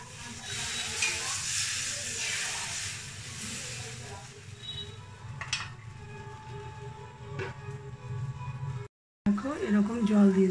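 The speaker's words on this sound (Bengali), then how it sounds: "এবার আমি এর মধ্যে একটু জল দিয়ে দেবো" Eggplant curry masala sizzling and hissing in a hot pan as a little water goes in, a loud frying crackle that eases down, briefly cuts out, then returns with stirring; a voice speaks over part of it.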